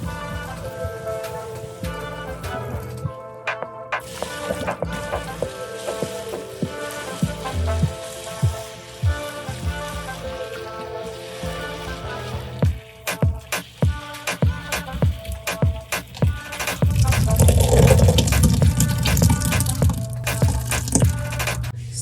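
Cooked boba tapioca pearls are poured out to drain, water rushing and splashing in a dense, uneven spatter that swells louder toward the end.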